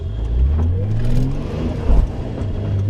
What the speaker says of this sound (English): I think this diff is very noisy.